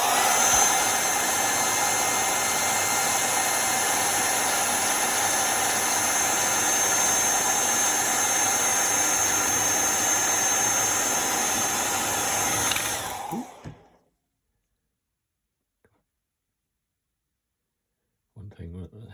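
A hair dryer drying paint on a miniature figure, blowing steadily at close range for about thirteen seconds, then switching off into silence, followed by a brief clunk.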